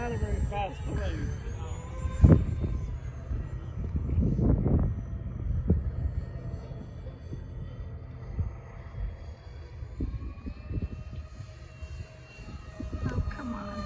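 A Hobbyking Avios Grumman HU-16 Albatross RC model plane drones past at a distance, a faint steady engine hum under wind noise on the microphone, with people talking nearby.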